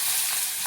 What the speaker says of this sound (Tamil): அரிஞ்சு வச்ச கத்திரிக்காய் முருங்கைக்காவை போட்டுருவோம். போட்டு வணக்கிட்டு